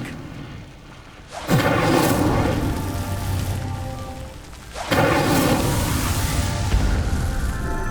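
In Hogwarts Legacy, the Incendio fire spell erupts twice, each a sudden loud roaring whoosh of flame that sustains for a few seconds, dense and close.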